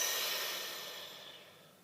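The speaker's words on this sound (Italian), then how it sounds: "Facciamo un bel respiro profondo" A single deep exhale, a long breathy hiss close to the microphone that slowly tapers off over about two seconds.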